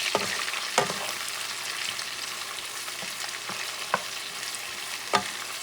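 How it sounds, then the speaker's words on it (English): Tomatoes sauté in a hot pan for a pork stew sofrito, a constant bright sizzle broken by occasional sharp spoon taps and scrapes against the pan, close up with no talking. "Add those tomatoes. So you saute this baby."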